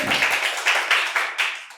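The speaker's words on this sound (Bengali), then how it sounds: "একটা জোরে হাততালি হয়ে যাক।" Audience at a medical college quiz contest claps for a winning answer, a short, close burst of scattered hand claps that quickly dies away.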